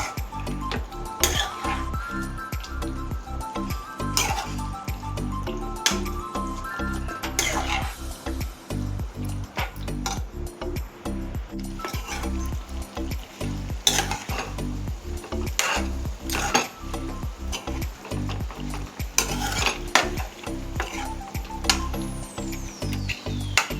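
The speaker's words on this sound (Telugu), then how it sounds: "మధ్య మధ్యలో అడుగంటకుండా కలుపుతూ ఉండాలండి." Chicken frying in a pan, stirred steadily, with a continuous loud sizzle and frequent metallic clinks and scrapes of the spoon against the pan throughout.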